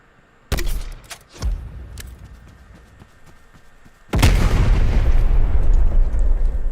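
Gunshots in the Black Ops Cold War multiplayer game on the Satellite map: two sharp separate shots early, then a loud sustained burst of rapid fire that carries on to the end.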